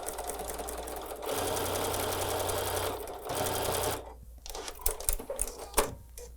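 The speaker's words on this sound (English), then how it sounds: "Let me just go sew this." A sewing machine stitches fabric patchwork pieces in steady, even bursts of rapid mechanical whirring, stopping and restarting a couple of times before a few louder knocks and clicks at the end.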